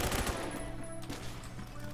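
G18 pistol gunfire in the shooter game Phantom Forces, a dense rapid burst of automatic shots mixed with game sounds, loud and continuous through the clip.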